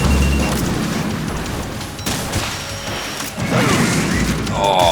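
Missiles explode in the Metal Gear Solid 2 video game: heavy booming blasts and crashing impacts come in bursts over rumbling background noise, loud and close.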